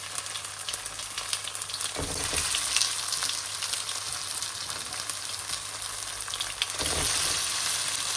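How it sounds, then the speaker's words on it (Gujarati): Steamed vegetable muthiya hit hot oil in a pan and sizzle steadily and close up, a dense crackling fry with a couple of brief stirring scrapes, and no talking. "અને હવે નાખી દઈશું આપણે સ્ટીમ કરેલા મુઠિયા"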